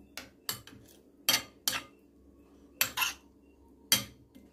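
A spoon stirring cucumber raita in a bowl, giving irregular bright clinks and scrapes against the sides, close and fairly loud, with quiet pauses between strokes.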